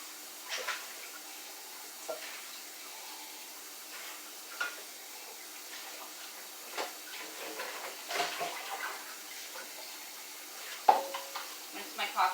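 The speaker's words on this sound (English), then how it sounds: "I'm going to rinse my can out for the recycle bin." Water from a kitchen tap runs into an empty can being rinsed out for recycling, a soft, quiet, steady trickle broken by faint knocks and splashes as the can is handled.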